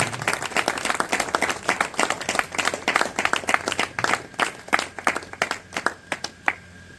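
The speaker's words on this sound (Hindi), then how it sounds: "जोरदार तालियों से स्वागत कीजिए" An audience at a stage program claps to welcome a guest, a dense burst of applause that gradually thins into scattered, separate claps.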